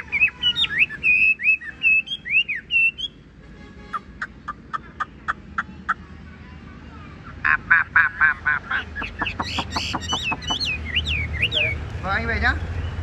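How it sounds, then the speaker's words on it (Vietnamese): Tam hoang songbird singing repeatedly in clear, varied whistled phrases, close and fairly loud, with low background noise and bursts of rapid trilling notes. "Chim này chỉ chim hót."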